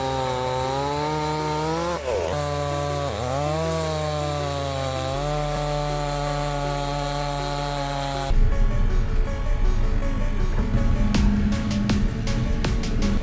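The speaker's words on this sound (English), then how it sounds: "With a sharp saw blade, it is easy to make a perfect cut on large logs in a short time." A big chainsaw drones with a steady, pitch-shifting engine whine while cutting large logs, then breaks into a louder, rougher grinding as the chain bites into the wood.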